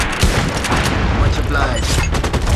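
Shotgun blasts and gunfire from the online shooter game MAG fill the clip as a dense, loud barrage of booming shots. Heavy, continuous game audio with overlapping reports, and a voice talks over the action.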